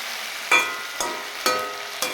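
Food frying in a pan gives four short, sharp sizzling bursts about half a second apart, each flaring up loud and then easing back into a steady hiss, with no talking.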